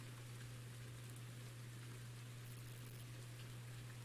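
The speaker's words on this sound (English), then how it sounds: "Ooh, it's raining." Soft, even hiss of rain falling in the Ultimate Fishing Simulator video game, faint and continuous over a low steady hum.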